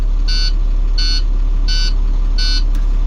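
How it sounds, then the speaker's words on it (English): An IC bus gives a warning beep four times at an even pace, each beep short, high and loud over a steady low engine rumble. "Beep, beep, beep, beep."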